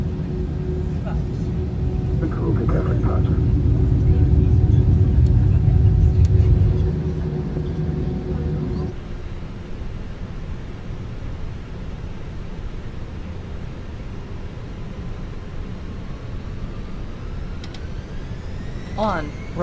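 An airliner taking off from runway 13 left in a flight simulator video game, its engines building to a loud roaring rumble that then settles into a lower drone, with a voice speaking over it.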